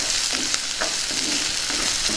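Green chillies, dried red chillies and curry leaves frying in oil in a pan for kanda vepudu, a loud, continuous crackling sizzle with periodic scrapes of a spoon stirring through.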